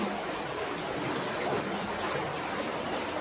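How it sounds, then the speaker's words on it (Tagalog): Strong river current rushing beneath a damaged bridge, a steady broadband wash of water that holds even and unbroken throughout. "Sabi sa inyo lakas ng tubig."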